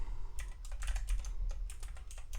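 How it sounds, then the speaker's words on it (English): Typing on a computer keyboard while entering a file command during an Arch Linux install in VirtualBox: a steady run of close, crisp keystrokes over low hum, with no voice. "I'll just finish typing it"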